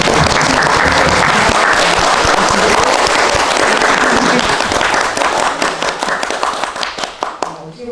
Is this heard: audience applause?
yes